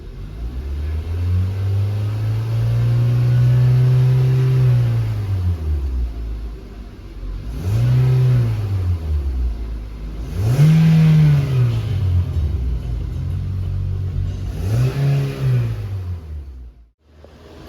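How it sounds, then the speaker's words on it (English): A car engine revved repeatedly in a workshop, first a long swell to high RPM and back down, then three shorter revs rising and falling, loud and close, ending in a drop to idle and near silence. "as we increase our RPMs"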